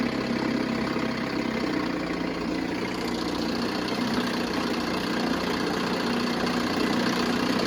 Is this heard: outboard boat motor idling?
yes